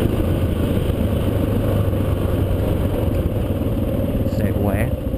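KLR650 or DR650 dual-sport motorcycle engine running steadily on a Utah backcountry trail near Moab, loud and continuous throughout, with a brief rise near the end as it revs for a wheelie attempt.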